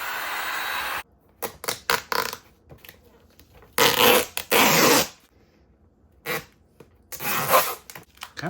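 Stickers are peeled off a Razor RSF650 electric dirt bike in a series of short, close, rasping tears and longer ripping pulls, separated by quiet gaps.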